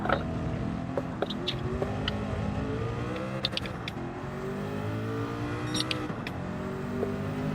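Mercedes race car engine in Gran Turismo 7, a steady loud drone with shifting pitch that rises and falls as the car accelerates and brakes, with occasional sharp clicks and blips over the continuous engine tone.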